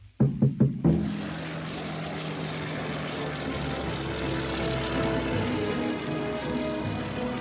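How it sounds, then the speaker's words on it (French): A Westland Lysander, a small propeller plane, takes off: a few sputtering engine catches give way to a steady, loud droning propeller roar that holds without a break. "Brossolette s'envole en Lysander, un petit avion tout-terrain qui peut atterrir dans un simple champ"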